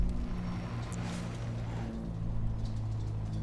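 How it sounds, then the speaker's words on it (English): Truck with a Caterpillar or Detroit diesel engine driving in Farming Simulator 17, a steady low rumbling drone with faint shifts in revs, fairly loud and continuous, no voices. "just the sound of the engine as you're driving as well, like you decelerate, take your foot off the gas, and it's sort of down revs"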